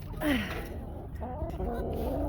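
Backyard chickens in a garden chicken area make soft, close clucks and brief vocal calls in a short burst, with low background rumble throughout and no talking.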